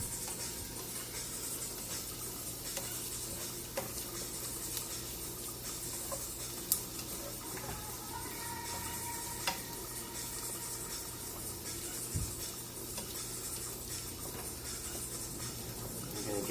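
A spoon stirs a mixture in a bowl, a soft, continuous scraping and clinking that runs steadily, with occasional sharper taps against the side, heard close up with no talking.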